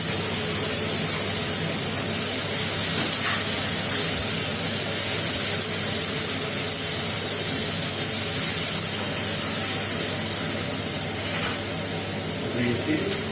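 Tomatoes hit a hot pan of ginger garlic paste with a loud, sustained spraying hiss. The sizzle holds steady throughout and eases only slightly near the end.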